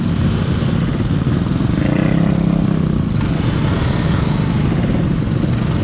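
Yamaha RX King two-stroke motorcycle being ridden in congested traffic, a loud, rough, close engine drone with clattering texture and slight revving throughout, no voices.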